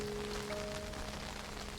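Steady rain falls as a soft, even hiss over a short stretch. It holds at a constant level with a faint tonal hum beneath, and no voices.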